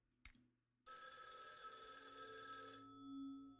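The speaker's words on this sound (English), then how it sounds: "Telephone, the phone is ringing." A telephone rings in the video game Raidou Remastered: a short click, then a sustained electric bell ring of about two seconds that stops abruptly, clear and alone with a faint hum after.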